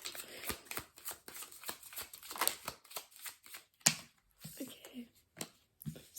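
Tarot cards are drawn and handled from a deck, producing a string of soft, papery flicks and slaps at close range, irregular and fairly faint, with a few quiet murmurs of a voice between them.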